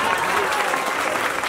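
A crowd at a political rally in Cantù breaks into steady, dense applause, loud and continuous, with a few voices mixed in.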